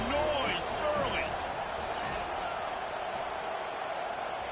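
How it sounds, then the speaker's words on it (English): A stadium crowd at a football game roars loudly and steadily throughout, a dense continuous wall of cheering with a commentator talking over it. "This crowd bringing the energy and noise early."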